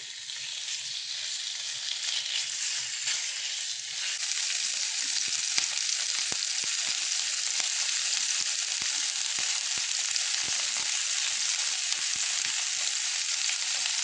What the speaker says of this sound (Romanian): ulei de măsline, prăjiți până se rumenește